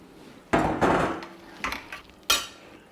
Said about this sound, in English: Now we are adding our peas. Just got frozen peas